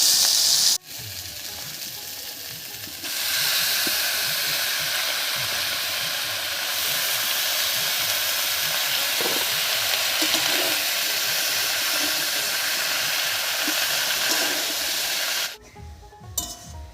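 Spinach going into a hot pan of partly fried vegetables for a Bengali palong shak chorchori, a loud broad sizzle and hiss that swells after a few seconds and holds steady, then cuts off near the end.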